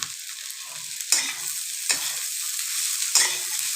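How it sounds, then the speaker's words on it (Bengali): Vegetables and cashews fry for fried rice in a pan, a steady bright sizzle broken by three louder scraping stirs, close and alone. "এবারে বাকি সবজিগুলো দিয়ে দিলাম"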